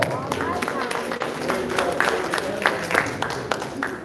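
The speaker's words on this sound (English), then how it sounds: "Give him a round of applause." A crowd at a celebration honoring Fred Gray's Medal of Freedom applauds after a donor is announced, brisk, irregular clapping with sharp individual claps standing out over a busy room and some voices.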